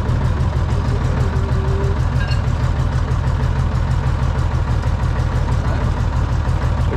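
A Massey Ferguson 86 tractor engine running steadily during a wheat harvest, a constant low throbbing drone close by with no clear rise in revs.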